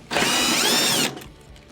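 A power screwdriver whirs steadily for about a second, backing out a Phillips screw from the rear lower panel of a Whirlpool/Kenmore range oven, then stops abruptly, close and loud.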